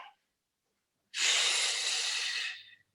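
One long, steady exhaled breath during a Pilates twist, close and soft, following a short inhale and a pause.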